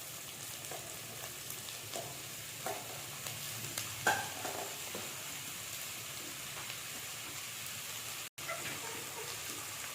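Oil sizzles and crackles softly in a pan as chopped ridge gourd is fried for a Telugu lentil curry, a low, continuous frying hiss with occasional stirring knocks and a brief clatter midway.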